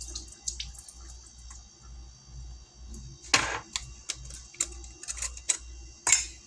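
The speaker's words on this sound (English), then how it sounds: "You want to drain your green beans." Green beans being drained at a kitchen sink: a low steady run of water with scattered clinks and splashes, brief brighter bursts of pouring, quiet and close with no voices.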